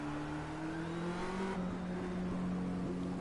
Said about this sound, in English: This engine sounds a whole lot like the Audi engine.